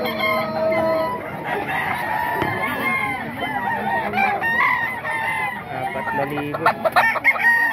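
Many chickens and roosters at a Bocaue market crowing and clucking up close in a busy overlapping chorus, with someone briefly speaking over the noise near the end.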